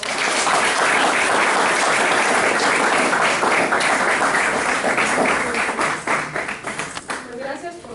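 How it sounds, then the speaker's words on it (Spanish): Audience applause fills the room after a Spanish-language lecture on straightedge-and-compass constructions, a dense sustained clapping that thins and fades toward the end with faint voices underneath. "Le damos un aplauso, por favor."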